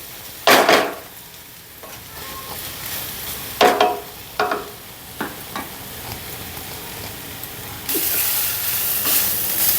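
Green banana pieces fry in a pan with a low steady sizzle broken by several sharp spatula scrapes and clanks, then a louder hissing burst of frying near the end, with no voices.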